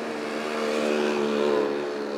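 Motorized tricycles and a jeepney pass along a street in a Philippine hometown, a close engine drone that swells as a vehicle goes by and then eases, heard without talk.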